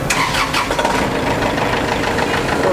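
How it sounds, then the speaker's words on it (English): Kubota L60 tractor diesel engine starting up, a loud continuous mid-range rumble with knocking clatter throughout the short clip, no voices. "start the tractor and actuate the cylinder"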